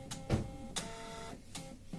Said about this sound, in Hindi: तब फोटो कॉपी कर देंगे